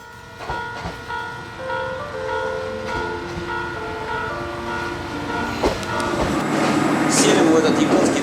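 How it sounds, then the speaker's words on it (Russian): A diesel rail bus rolls into a station in Japan, engine droning and wheels squealing, then a loud rumble builds as it pulls close, with people talking nearby. "А вот и наш поезд."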